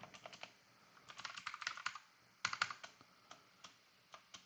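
Typing on a computer keyboard during a honeypot setup on Azure, with quick irregular clusters of close key clicks, some louder taps, and brief pauses between bursts.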